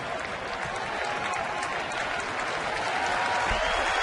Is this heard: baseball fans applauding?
yes